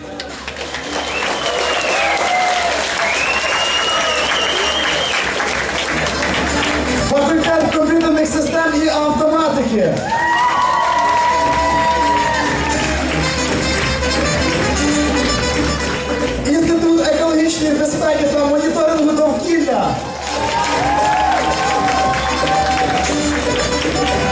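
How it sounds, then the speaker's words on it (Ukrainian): A crowd applauds and cheers at a student festival concert on stage, sustained loud clapping with a host's voice and music carrying over it throughout. "Аплодуємо, будь ласка."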